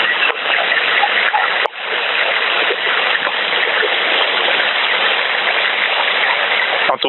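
Carp splash in a lake during spawning season, heard as a steady, dense wash of water noise with no break, loud and close, with a few sharper splashes standing out.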